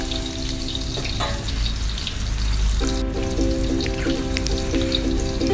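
Shellfish deep-frying in hot oil for a crispy Thai-style dish: a steady, loud sizzle and crackle throughout, with light background music joining partway through.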